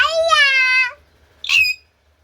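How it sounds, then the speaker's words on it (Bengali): A pet myna bird in a Bangladeshi bird shop gives a long, pitched, voice-like call of about a second, then after a short pause a sharper squawk, both close and loud with no other voices. "ময়না কথা বলছে"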